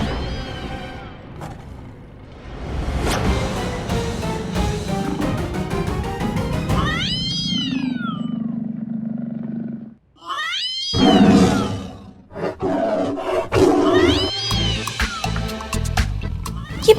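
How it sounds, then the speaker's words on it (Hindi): A mobile phone left on top of a cupboard rings with a cat-meow ringtone, sounding several drawn-out, wavering meows in bursts, mixed with background music and indoor noise. "ये बिल्ली की आवाज कैसे आ रही है? ये पुष्पा जी का रिंगटोन है, उनका फोन बज रहा है।"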